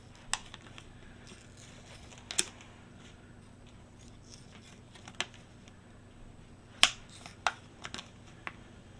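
Scissors snip the ridge off a plastic yogurt lid in a quiet room, a scattered series of sharp, faint clicks and crisp cuts, with a few louder snaps clustered toward the end.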